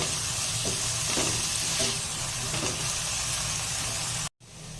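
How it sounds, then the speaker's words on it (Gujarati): Vegetables being stir-fried and mixed with sauces for veg Hakka noodles in a pan. A loud, steady sizzle carries occasional scraping stirs and is close and continuous until a sudden brief cut near the end, with no one talking. "હવે આપણે આને સારી રીતે મિક્સ કરી લઈશું"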